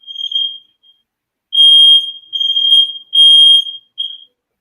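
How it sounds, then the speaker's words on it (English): A shrill electronic alarm beeps loudly and close by in several bursts of uneven length separated by short silences, with no voices over it. "Nice alarm there, Richie."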